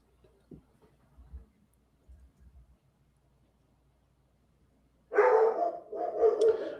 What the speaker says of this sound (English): You will hear my dog throughout the night because it's raining outside